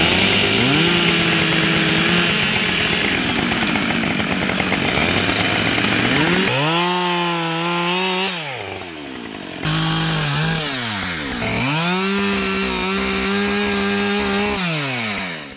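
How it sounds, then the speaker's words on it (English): A chainsaw clearing brush and trees to make pasture on a homestead, loud and close, its engine revving up and down repeatedly through long cuts with brief idle dips between them. "with just a chainsaw, this is gonna become usable pasture today."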